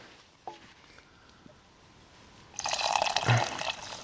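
Hot water is poured into a glass holding a bourbon and ginger drink, a close splashing, gurgling stream that starts after a few faint drips and small clinks and then runs steadily to the end.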